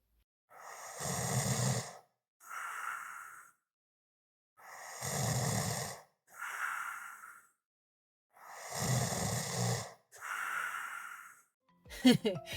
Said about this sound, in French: c'est un ronflement